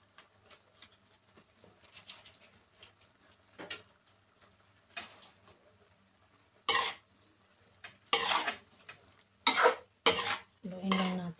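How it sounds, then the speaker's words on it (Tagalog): Igado stirred in a pan: soft scraping and patter early on, then several loud, sharp bursts of spatula scraping and clattering against the pan. "Haluin lang natin."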